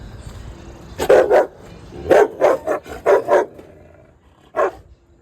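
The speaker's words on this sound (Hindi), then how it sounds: "कुत्ता बंद है यहाँ पे, क्योंकि यहाँ तेंदुआ आता है।" A dog shut in at a rural spot where leopards roam barks in sharp bursts: a double bark, then a quick run of four or five loud barks, and one last bark after a pause, with no talk.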